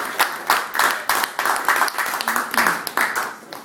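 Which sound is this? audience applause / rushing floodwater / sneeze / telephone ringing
audience applause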